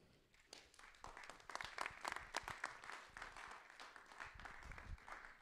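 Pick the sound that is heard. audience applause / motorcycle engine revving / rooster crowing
audience applause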